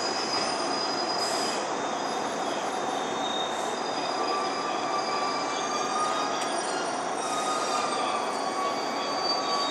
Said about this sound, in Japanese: 終点仙台に到着です。